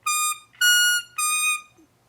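Three bright, reedy harmonica notes in a row, each held briefly, the pitch sounding slightly off and unsteady: a bent note on hole 9 not released, giving wrong intonation.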